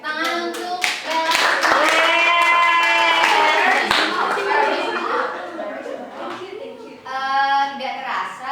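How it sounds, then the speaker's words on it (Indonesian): Schoolchildren in a classroom clapping for a classmate named Bel, scattered uneven hand claps under loud overlapping children's voices and chatter. "tepuk tangan untuk Bel"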